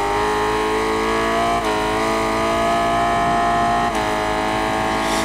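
A Honda motorcycle in the racing game Ride 5 at Brands Hatch, its engine holding a steady high-pitched whine under heavy engine braking, loud and continuous, with two brief dips as gears shift.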